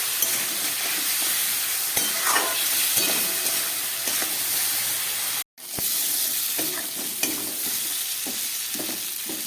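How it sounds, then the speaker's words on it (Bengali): Spices frying with fish and pieces of curry in a hot pan give a steady sizzle and hiss for the whole stretch, with stirring scrapes and one sudden brief break near the middle. "মশলা দেবার পর খুব ভালো করে ভেজে নিলাম"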